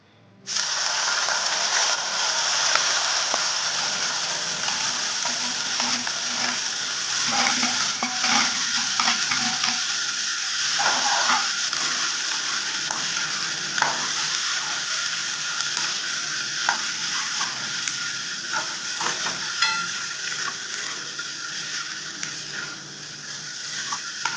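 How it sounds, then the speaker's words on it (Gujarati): Chopped onions fry in hot oil in a home kitchen while making baingan bharta, a continuous, close sizzle and crackle with occasional stirring scrapes, steady and unbroken throughout with no talking. "હવે તેલમાં ડુંગળી ઉકળવા દઈશું"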